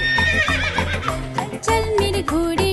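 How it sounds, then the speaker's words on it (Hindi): A horse neighs and whinnies in a children's morning rhyme, its rising, wavering calls repeated over a bright musical backing with rhythmic clip-clop beats. "चल मेरे घोड़े टिक टिक टिक"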